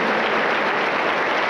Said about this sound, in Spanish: le damos fuertes aplausos para el Señor Jesús